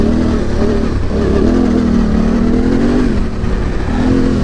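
Yamaha Tenere 700 motorcycle engine pulling hard under acceleration, a loud, close mid-pitched drone whose pitch wavers and climbs in gentle surges over several seconds, with no voices.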